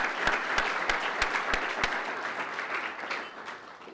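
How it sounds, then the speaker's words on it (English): Applause from a mental health summit audience, continuous crowd clapping with a few sharp, loud claps standing out near the start, then thinning and fading gradually toward the end. "Please, let's give them a round of applause."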